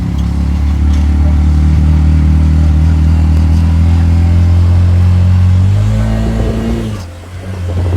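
Tuk-tuk engine in Siem Reap, Cambodia, held at a loud steady throttle, with a deep close drone that shifts pitch near the end before dropping off.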